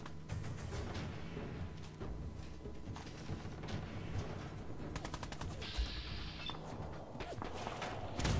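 Enemy gunfire in the Fallout 4 video game, rapid bursts of shots crackling close by over a dense, busy game soundscape, with a sharper stretch of rattling fire near the end.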